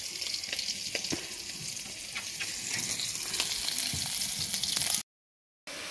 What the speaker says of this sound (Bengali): এগুলি সরপটি মাছ ভাজতেছি।